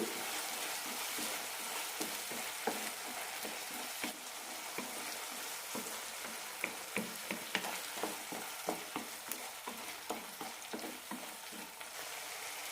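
Onion and tomato masala sautéing on a low flame until the oil separates, a steady soft sizzle with repeated gentle stirring scrapes, close but quiet, with no talking.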